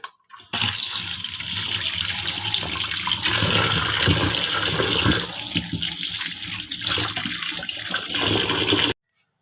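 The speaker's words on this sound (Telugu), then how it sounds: "ఈ చికెన్ వచ్చేసి బిర్యానీ కోసం ఇప్పుడైతే శుభ్రంగా వాష్ చేసుకుంటాను" Raw chicken being washed for biryani under a steadily running tap, a loud continuous splash and gush of water that holds for about eight seconds before cutting off abruptly, with no voices.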